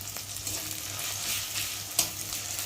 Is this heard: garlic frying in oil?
yes